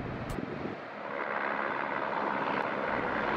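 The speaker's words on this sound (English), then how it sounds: "flying that helicopter took courage and skill" A CHP rescue helicopter flies through a narrow canyon in gusty afternoon wind, producing a steady, broad rotor-and-engine roar mixed with buffeting wind noise that swells slightly after the first second.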